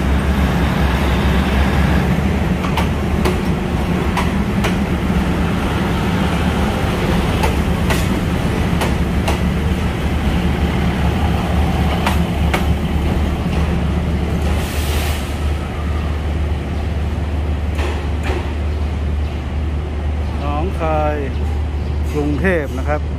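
A diesel railcar rumbles into platform 6 at Hua Lamphong station with a low, continuous engine and rail drone, carrying through bursts of clatter and a voice speaking over it.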